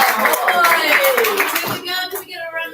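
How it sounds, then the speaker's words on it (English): A chemistry class gives a short burst of applause for a student named Steven, a dense patter of claps with voices talking over it. "Do we get a round of applause for Steven?"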